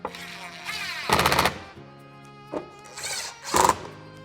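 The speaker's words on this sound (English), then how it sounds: "Reinstall the 10mm screws." A power tool whirs in a few short bursts while reinstalling 10mm screws during fitting of a backup camera cleaner on a 2025-2026 Ford Explorer, close and fairly loud with quiet pauses between runs.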